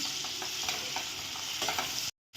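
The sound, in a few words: frying chopped onions and chilli pieces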